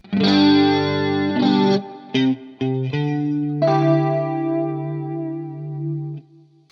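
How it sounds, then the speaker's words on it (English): Electric guitar chords through a Marshall JTM45-style amp tone played alone through a flanger, with a sweeping, whooshing comb-like shimmer on sustained notes and a few short stabs in between. "There's a flanger."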